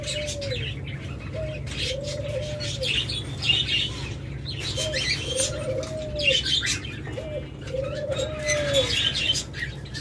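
Diamond doves give repeated soft cooing calls, about four rising coos spread evenly over the stretch, with occasional wing flaps and faint chirps from other birds behind them. The birds sound close, and nobody speaks.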